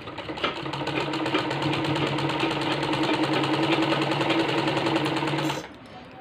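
A sewing machine hums steadily and loudly while stitching the side seam of a t-shirt being remade into a child's shirt, running continuously for about five seconds before cutting out.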